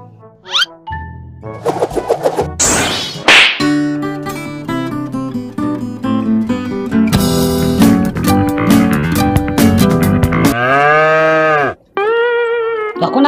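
A cow moos in the Mobile Legends mobile game during a Franco hook animation, a short tonal bellow set among loud, layered game effects and music.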